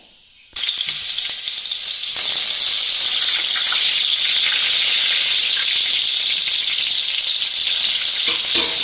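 Ginger, garlic and curry leaves drop into hot oil for banana stem pickle, a sudden loud sizzle bursting in after a quiet moment and continuing as a bright, steady hiss with faint stirring scrapes.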